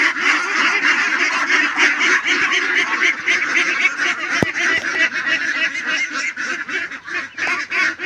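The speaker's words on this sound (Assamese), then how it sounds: "এইটো হাঁহ ধৰি ল'লোঁ" A local duck held in the hands honks and quacks loudly and continuously at close range, in rapid repeated calls with no voices.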